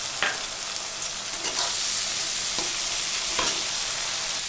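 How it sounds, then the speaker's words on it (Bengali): Chopped onions frying in hot oil with dry red chilli and cumin give a steady, close sizzle with a few scraping stirs of a utensil in the pan, with no voices. "আমি এই এক বাটি পেঁয়াজ সব ঢেলে দিলাম এর ভিতরে"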